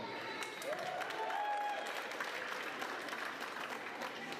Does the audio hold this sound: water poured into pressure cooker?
no